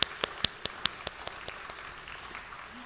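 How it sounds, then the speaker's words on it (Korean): Applause from a church congregation at a Sunday worship service, starting with a few sharp, distinct claps and thinning into a soft, fading patter over a few seconds, with no voices. "우리 다 함께 수고하신 모든 분들을 위해 다시 한번 박수하겠습니다"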